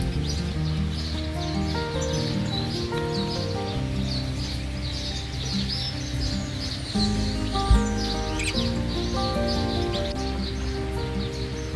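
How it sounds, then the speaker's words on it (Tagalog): Many birds call together from treetops at Temple View, New Zealand, a dense continuous chorus of overlapping chirps and tweets alongside a steady lower rushing background, with no talking. "Ang daming ibon, mga kaabe,"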